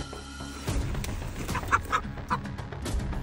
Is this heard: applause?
no